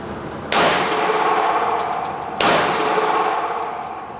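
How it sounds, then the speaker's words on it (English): Springfield XD-S .45 pistol failing to return to battery, two sharp metallic reports about two seconds apart, each ringing and decaying slowly, close and loud with no talk. "There's a failure to go back into battery."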